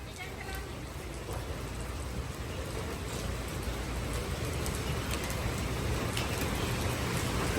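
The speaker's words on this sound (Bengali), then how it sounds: "অনেক বৃষ্টি দেখেন কি ঝুমঝুম বৃষ্টি" Heavy rain pours down in a steady, dense hiss that builds slightly louder over several seconds, with a voice faintly present beneath the downpour.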